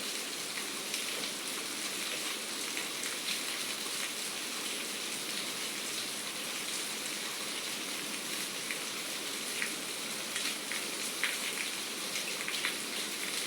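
Heavy rain pours down steadily in a dense, continuous hiss, close and loud throughout, with occasional sharper drops standing out against the wash.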